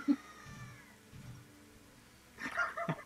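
A cat in The Legend of Zelda: Ocarina of Time gives a few short meows, quiet and intermittent, with a brief louder cluster of cries near the end.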